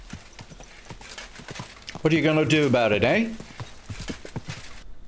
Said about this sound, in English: Now, let's go for a ride. Is this your first time riding a horse?